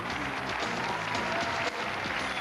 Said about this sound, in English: Big round of applause for Paige.